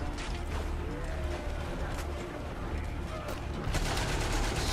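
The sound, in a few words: German machine gun emplacement firing, Valiant Hearts video game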